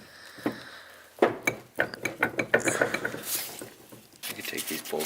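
A hand ratchet clicks in quick repeated bursts while loosening bolts on a cracked, worn-out eBay turbo housing, close and fairly loud, with a short quieter pause between runs of clicks.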